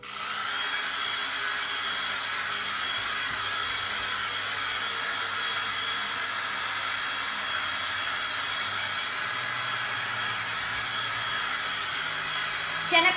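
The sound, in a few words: dryer drying silkscreen paste on a board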